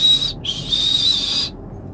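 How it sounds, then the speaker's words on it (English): A referee's whistle is blown in two shrill blasts: a short toot, then a longer sustained blast, loud and close with no talking. "I'm blowing the whistle"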